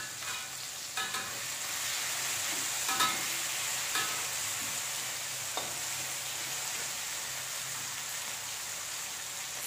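Potatoes fry in a pan for egg sambal, a steady hissing sizzle with a few sharp stirring clicks and scrapes, close and alone without voices.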